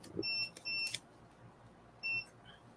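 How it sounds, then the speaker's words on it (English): Three short electronic beeps from a machine sound in a pair and then a single, high and thin, over a quiet room background. "stop all that beeping in y'all ears"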